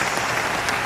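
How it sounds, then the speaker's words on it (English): Dense crowd applause fills the background as a steady, even wash of clapping with no breaks. "Can we put the claps in the background?"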